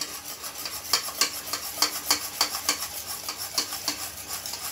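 Orange sugar jelly mixture with a pinch of food colour is stirred in a pan on the stove. Quick, rhythmic scraping strokes repeat about every quarter second over a faint bubbling hiss.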